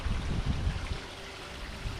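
Water trickling and splashing from a small waterfall into a koi pond in autumn, a close, steady babbling rush with no voices.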